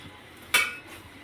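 A single sharp clink of a spoon against a bowl stands out once against a quiet background while dal is mixed with white sesame seeds and onion.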